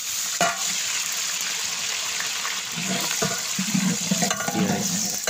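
Water and onions hitting hot oil for a six-kilo lentil chhakka dish raise a loud, steady hiss and crackle, with louder bursts and stirring clatter toward the end.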